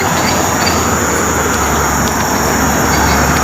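Roadway rumble from a truck on a highway, heard as a constant loud broadband roar with a low drone throughout and no speech.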